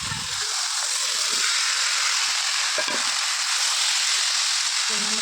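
Spice masala frying in oil in a pan for a potato, papaya and drumstick curry, with a steady loud hiss of sizzling and a few scraping stirs, close up and without speech.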